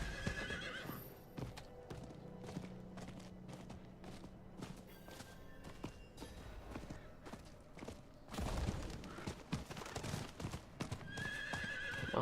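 Horse hooves in Diablo IV clip-clopping steadily with a whinny at the start and end, over a continuous low background hum.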